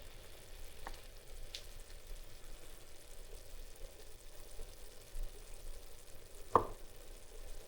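Regular ground beef cooking in a pot, a quiet steady sizzle with a couple of faint scrapes and one brief louder clatter near the end.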